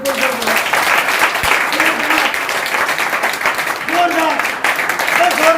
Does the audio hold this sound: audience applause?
yes